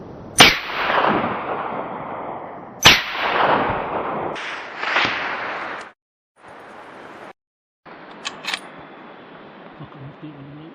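Two loud, sharp long-range hunting rifle shots in the New Zealand outdoors, each a sudden crack followed by a long rolling echo across open terrain, with a few quieter bangs and handling noises afterward.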